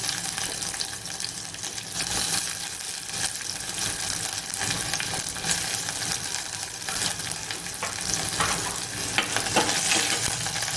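Garlic cloves, curry leaves and onions frying in a pan for Kathiyawadi masala roti, a steady loud sizzle with scraping stirring and occasional watery spatter throughout.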